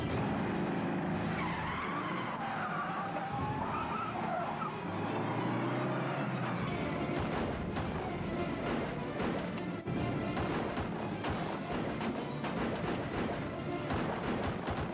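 Cars in a chase, tires skidding and squealing loudly through dense, continuous engine roar, with shifting pitches and sharp bursts throughout, no voices.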